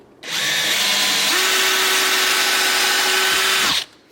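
Close-up power drill runs in one continuous high whine for about three and a half seconds as it cuts a hole in a Jeep TJ during a CB radio install, then stops.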